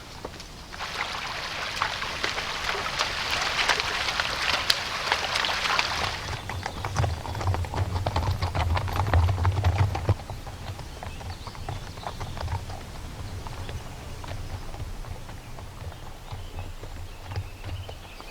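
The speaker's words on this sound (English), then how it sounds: "I'm really impressed with these horses and their ability to negotiate this incredible terrain." Several horses pick their way over rough, rocky wilderness terrain in America, hooves clip-clopping steadily and close by, with running water trickling beneath and no talk.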